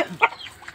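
A single short cluck comes from a hungry farm chicken, close and fairly quiet.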